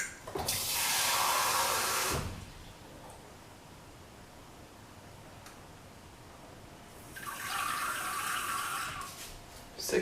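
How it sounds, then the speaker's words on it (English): Water poured in two bursts into a measuring vessel for brewing coffee at home, a steady splashing pour near the microphone, then a quiet pause, then a second shorter pour. "I literally measure out my water so that I'm specific"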